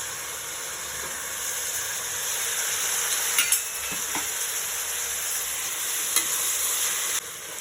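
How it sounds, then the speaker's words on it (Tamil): Tomatoes with ginger-garlic paste sautéing in a pan for tomato rice: a constant close sizzle and hiss with a few scraping clicks of a spoon stirring, and no talking. "தக்காளி நல்லா வதங்கணும்"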